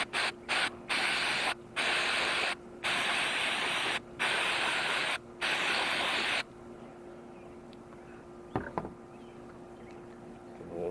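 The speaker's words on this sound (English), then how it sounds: "just spray it out" An aerosol can of cleaner sprays onto the mass airflow sensor of a VW Mk5 2.5 in a series of loud hissing bursts separated by brief gaps, followed by quieter background with a faint clatter.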